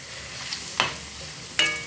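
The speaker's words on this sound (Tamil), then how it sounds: "இப்போ நம்ம கொஞ்சம் கொஞ்சமாக அப்பளத்தை போட்டு பொரித்து எடுத்துப்போம்." Appalam (papad) deep-frying in oil in a small kadai, a quiet steady bubbling sizzle with two sharp crackling bursts close by, and no one speaking.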